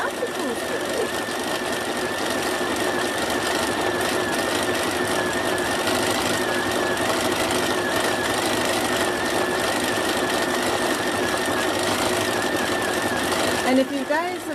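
A Bernina 790 Pro sewing machine stitches in a steady, continuous mechanical hum with a fast rhythmic needle knock. It runs loud and close for the whole stretch, with a voice faintly audible underneath.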